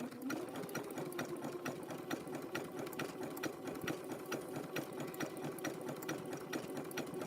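A sewing machine stitching rope and fabric steadily, its rapid mechanical clatter and motor hum running continuously throughout at close range.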